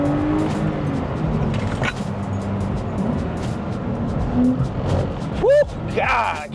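A BMW M4 driven hard on a road, its engine note rising and falling with possible tire squeal near the end, while a person talks over it inside the car.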